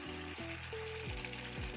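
Garlic and olive oil sizzling in a hot skillet on a very hot burner, a soft, steady frying hiss heard up close, with faint tonal hum running underneath.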